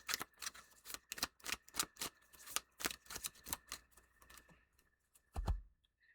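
A tarot deck is shuffled by hand, giving a quick run of close, crisp card riffles and taps that thins out and ends with a heavier thud.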